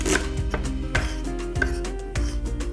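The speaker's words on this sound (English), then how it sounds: "We're gonna begin by removing the corn kernels from the cob" A kitchen knife slices raw corn kernels off the cob in four crisp, evenly spaced cuts against a board, close and clear with no talk.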